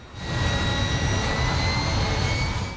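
Airplane jet engines whine and roar steadily at close range before takeoff, a loud continuous rumble with high-pitched tonal whistles held throughout and no voices.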